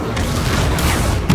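Incendio fire spell cast in the Hogwarts Legacy video game, a loud sustained fiery boom with a burst near the end, alone without talk.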